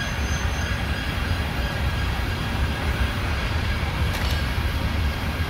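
A London Underground metro train rumbling steadily near Embankment station, a loud continuous low roar of wheels and carriage noise with a faint brief high squeal near the end.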